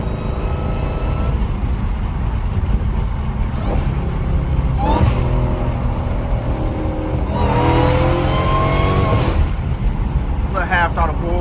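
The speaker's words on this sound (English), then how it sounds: "A little half throttle pull." Dodge Hellcat engine pulling at half throttle on back roads, a steady low drone that swells as the car accelerates, with rising harmonic sweeps and a voice talking over it in the middle.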